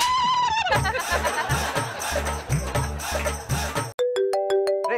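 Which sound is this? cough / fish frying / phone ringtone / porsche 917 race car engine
phone ringtone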